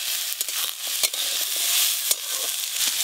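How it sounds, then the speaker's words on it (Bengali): Whole spices dry-roast in a pan while a utensil stirs them, giving a close, steady crackling sizzle broken by sharp scraping strokes at irregular intervals. "সব মশলাগুলো হালকা করে নেড়ে নিয়েছি"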